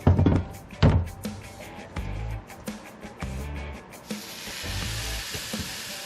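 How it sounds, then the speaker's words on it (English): Hamburger patties hit the hot basket of a preheated air fryer, setting off bursts of crackling sizzle with soft placement thunks, then a steady hiss that settles in and continues to the end. "That's a nice sizzle."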